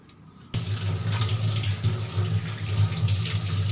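Tap water runs steadily into a sink while brass idols are washed clean, a close, full rushing and splashing that starts abruptly after a brief quiet moment and continues evenly, with no voices.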